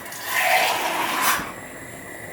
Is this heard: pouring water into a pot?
yes